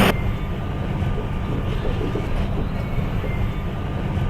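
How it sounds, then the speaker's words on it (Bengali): Continuous low rumble of a Kolkata-to-Vizag passenger train departing platform 4 at Cuttack station, steady and loud throughout, with a faint rhythmic clatter beneath. "কটকের 4 নম্বর প্ল্যাটফর্ম থেকে ছেড়ে দিল আমাদের ট্রেন"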